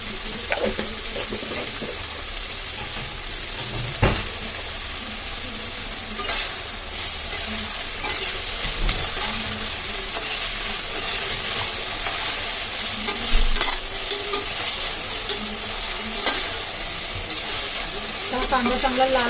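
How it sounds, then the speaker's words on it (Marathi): Salted onions fry in a pan until soft and reddish, a constant sizzle overlaid with repeated spoon stirs and scrapes, some sharp utensil knocks standing out, heard close with no talking. "कांदा चांगला लाल होईपर्यंत त्याला शिजवून घेतो"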